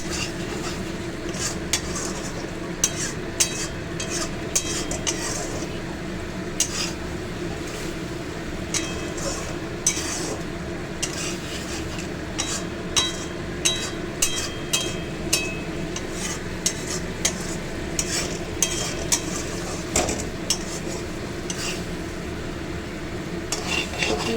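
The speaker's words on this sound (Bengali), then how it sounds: "দেখেছো, কষা প্রায় হয়েই গেছে, আর একটু কষা হবে।" Fish masala for Bhola fish curry stir-fried in a pan over high gas, with a continuous sizzle and frequent scraping and clinking of the spatula against the pan throughout.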